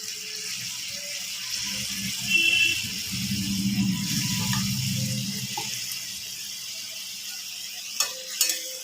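Fried katla fish pieces go into a simmering red masala gravy with water added, giving a soft bubbling sizzle and gentle stirring, with a few light clinks near the end.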